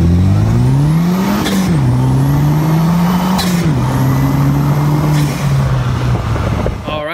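A car engine pulling through its gears on a drive, loud and steady with the revs climbing and then dropping at each shift, several shifts in a row, close throughout under wind and road noise.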